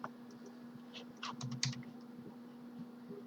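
Typing on a computer keyboard while entering a password, a quick burst of soft close key clicks in a quiet room with a faint steady hum beneath.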